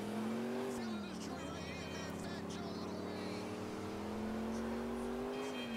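A car in GTA IV drives steadily around curves, its engine drone rising and dipping continuously, with a voice speaking over it throughout.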